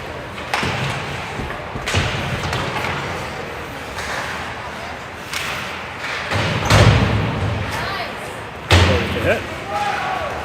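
Body checks in a varsity high school hockey game, Ranch Grizzlies against the Bruins, land as several loud board-rattling thuds and slams amid rink echo, with a commentator talking throughout.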